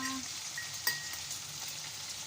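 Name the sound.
small chicken pieces frying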